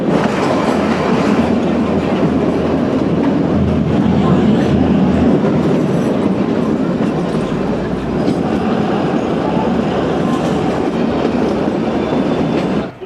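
The Kalka–Shimla toy train rumbles along continuously, heard from inside a carriage as a loud, steady roar with rhythmic wheel clatter and low rattling throughout.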